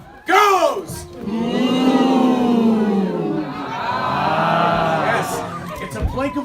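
A single voice imitates a cheering crowd, giving a long, loud, roaring 'ahh' that rises and falls for several seconds before dropping off.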